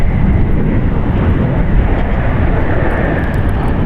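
Boeing 787-9 Dreamliner from Norse touching down on runway 28 right at San Francisco International Airport, a loud steady broadband jet roar held throughout, with no voices.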